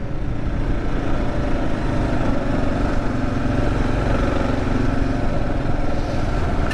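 A 2024 Kawasaki KLR 650 ridden on a gravel road, its single-cylinder engine droning steadily and loud throughout under a constant wash of wind and tire noise, with no pauses or voices.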